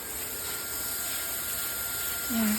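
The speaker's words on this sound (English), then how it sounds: "now he's just spraying it" A steady broadband hiss of water spraying to rinse a concrete pool patio, continuous and moderately loud, with a brief low engine-like hum rising near the end.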